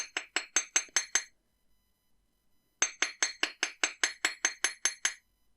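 Crisp metallic taps ring out as a hammer flattens the drop of a wire-wrapped earring: a run of seven quick strikes, a short silent gap, then a longer, even burst of about a dozen close, bright clinks.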